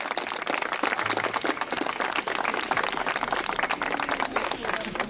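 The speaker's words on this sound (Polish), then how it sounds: "Wielkie brawa, dziękujemy." Loud, sustained applause from an audience on a walk in defence of the Białowieża Forest, dense rapid clapping that carries on for several seconds with a few voices mixed in.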